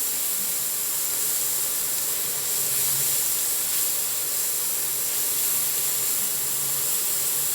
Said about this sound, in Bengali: এখানে ক্যাপসিকামটা একটু ভাজা ভাজা হয়ে যায়।